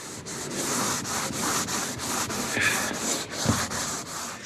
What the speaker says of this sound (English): So very little sanding at this stage.